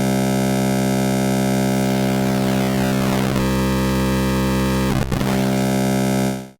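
A Kontakt 6 wavetable synth tone in quantize morph mode, its waveform shifting as the form knob rises: a dense, buzzy sustained chord with harmonics sweeping down and back, loud and continuous with no talking.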